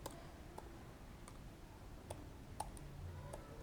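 A computer keyboard is typed on sparsely during HTML coding, giving a handful of faint, sharp clicks at irregular intervals over a quiet room.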